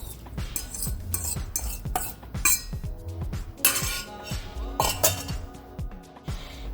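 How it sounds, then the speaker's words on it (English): Shrimp dropped into a pan of melted butter, heard as close clinks and scrapes of a utensil against the pan with light tapping and a faint sizzle, in a quick irregular rhythm. "So now that it's all melted, we're going to add in the shrimp."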